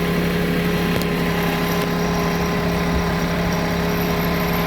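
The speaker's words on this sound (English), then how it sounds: "This tractor is quite powerful." A tractor engine runs at a steady pitch, a constant humming drone with a faint whine above it that stays even and fairly near for the whole stretch, with no voices.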